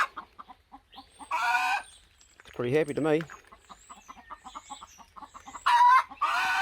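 Chickens cluck and squawk nearby in short bursts, with a louder drawn-out call in the middle, while someone talks briefly.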